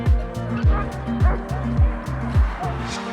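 Dogs barking at each other on a walk by a lake, a rapid run of about eight sharp, close barks in an uneven rhythm, with some yips and a distant car in the background.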